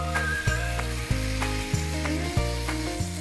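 Chicken roast frying in a pan, a steady sizzle over a humming tone that pulses in a regular rhythm about every half second.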